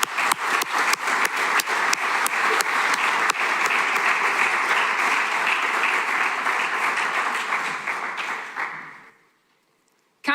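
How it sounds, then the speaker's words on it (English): Audience at a Professional MBA graduation ceremony breaks into sustained, dense applause, loud and steady for about nine seconds before fading quickly into near silence. "I think she deserves my applause, and I'm sure you will join me here by saying thank you, Barbara,"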